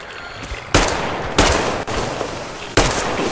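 Gunfire in the video game Metro Exodus: three loud, sharp shots spaced unevenly, each cracking out close and then trailing off into a noisy, rumbling background, with no voices.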